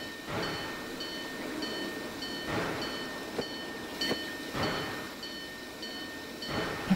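A train runs along its track in the video game Train World, a steady rolling rumble with recurring rhythmic surges of clatter every second or two and faint high tonal hum, moderately loud with no talk.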